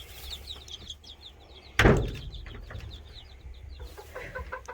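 Roosting chickens cluck and chirp softly inside a homestead coop, with one sudden loud bang like a door or latch partway through, then the scattered fowl calls carry on.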